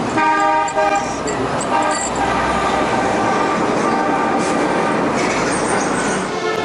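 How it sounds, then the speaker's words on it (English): Loud, steady rumble of passing vehicles with a horn toot, continuous and close by, like standing right beside a busy road in Da Nang, Vietnam. "We're right on the road, so it's a little noisy as well."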